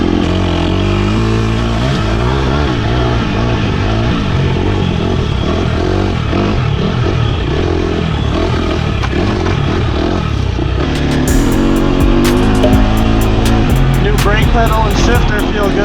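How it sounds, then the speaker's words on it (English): A dirt bike with a brand new aftermarket exhaust revs and rides, a loud, close engine note rising and falling in pitch, with a rougher, louder burst near the end and no speech over it. "the sound of a brand new exhaust"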